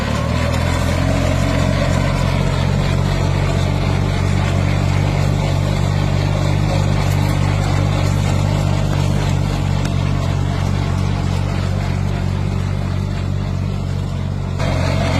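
A tractor working a sugarcane field, earthing up soil along seven-foot rows, gives a loud, steady, close engine drone with a low rumbling hum that holds constant throughout, with no talk.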